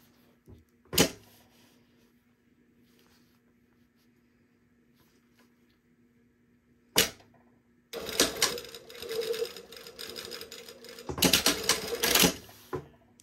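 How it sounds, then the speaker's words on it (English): A sewing machine stitches a 3/8-inch seam on a white summer sweater: two brief isolated bursts, then a longer run of rapid mechanical whirring and clatter near the mic, pausing briefly before a final burst. "And I'm going to sew at 3/8 of an inch from the top there."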